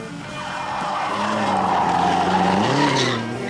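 A 1989 Renault 11 Turbo rally car skids on a Rally Madeira stage, its turbo engine droning loudly and steadily while the tires scrub and squeal, the pitch sliding near the end.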